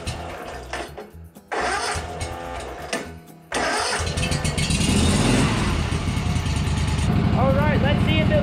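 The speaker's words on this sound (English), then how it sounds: "Let's see if we can fire this thing up. Give it some choke." With choke applied, a Yazoo Kees ZT Max zero-turn mower engine cranks in a few bursts, then fires and settles into a loud, steady run, with a person talking over it.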